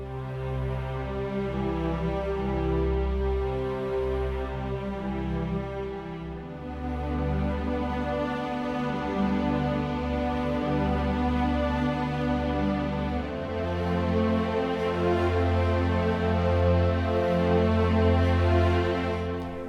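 Sustained low bassoon tones blend with a warm bed of bowed orchestral strings, forming slow, full chords that shift gradually, in a mockup of a piece from The Lord of the Rings.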